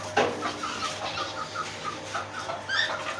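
Chickens clucking in a farm coop, a steady run of short soft clucks and calls close by, with a low background hum and no talking.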